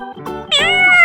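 Cartoon cat meowing in a farm-animal cartoon: a single loud, close, drawn-out meow with a bright rising and then falling pitch, heard alone.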